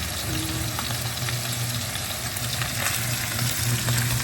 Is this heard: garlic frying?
yes